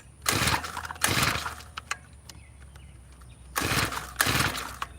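Close, loud pull-start attempts on a tiller engine come in two quick pairs of rough sputtering bursts, separated by a quiet gap with small clicks and faint background noise.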